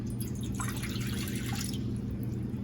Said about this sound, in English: In your separate bowl, add 1 cup of water